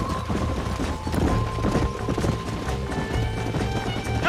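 Horses galloping in Red Dead Redemption, a loud steady clatter of hooves with busy game background sounds, no talk over it.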